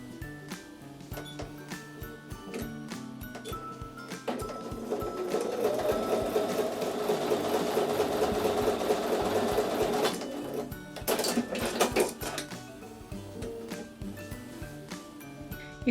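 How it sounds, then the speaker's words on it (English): A sewing machine stitching quilt block columns and rows together, its fast mechanical whirr building into a loud continuous run, then breaking into short clattering bursts before stopping, with no voices. "And now I'm going to sew those together."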